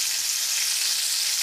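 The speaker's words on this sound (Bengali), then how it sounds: "মাছগুলো আগে আমি ভেজে নিচ্ছি," Hilsa fish pieces fry in hot oil in a kadai, giving a steady, close sizzling hiss that holds evenly throughout without any voices.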